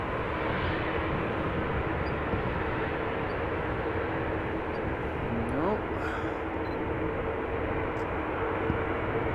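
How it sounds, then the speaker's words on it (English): Bulgaria Air Airbus A220-300 jet at Amsterdam Schiphol Airport, a steady broad engine roar heard from a distance, constant and fairly faint with a brief whine partway through. "Bulgaria Air to Sofia, A220-300, flight 462."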